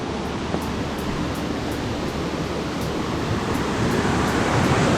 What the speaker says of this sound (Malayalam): പാലത്തിന് നടുവിൽ കൂടെ നേരത്തെ കണ്ട ആ വെള്ളം ഒഴുകി പോകുന്നുണ്ട്